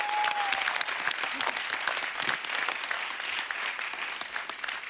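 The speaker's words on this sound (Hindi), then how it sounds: "एक बार जोरदार तालियां होनी चाहिए।" A studio audience on The Kapil Sharma Show comedy program breaks into loud, sustained applause, a dense, steady roar of clapping with some crowd voices.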